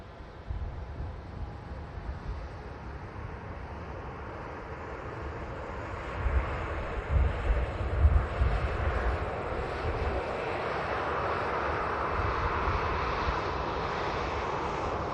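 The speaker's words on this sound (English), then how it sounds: "Got a TUI Dreamliner coming in from Enfida, 787-9 Dreamliner" A TUI Boeing 787-9 Dreamliner arrives from Enfidha at Manchester Airport, its engines a broad steady roar with wind buffeting, swelling slightly in the middle and holding through to the end.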